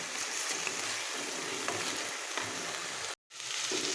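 Khesari greens with fried eggplant cooking in a pan as the water dries off, giving a continuous close sizzling and bubbling hiss, briefly cut out by a moment of silence near the end.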